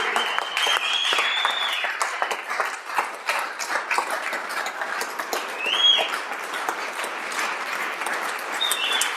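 A Senate chamber fills with sustained applause for staff, many hands clapping in a dense, continuous patter that rises and dips over several seconds at moderate level.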